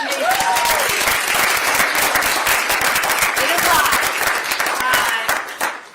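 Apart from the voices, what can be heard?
audience applause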